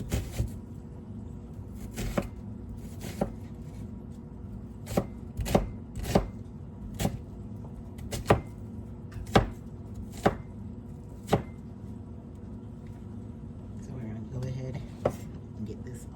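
A knife dices a purple onion on a cutting board, landing in sharp, irregular chops that cluster in quick bursts with short pauses between them, close and clear over faint room noise.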